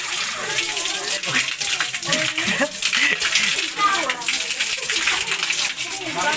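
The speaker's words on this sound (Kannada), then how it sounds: "ಇಲ್ಲಿ ಮೇಲ್ಗಡೆಯಿಂದ ನೀರು ಬೀಳ್ತಾ ಇರುತ್ತೆ" Water pours from above at Antaragange temple, a continuous splashing gush that fills the whole stretch, with voices talking faintly underneath.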